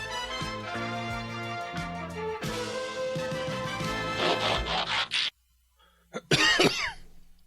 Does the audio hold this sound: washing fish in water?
no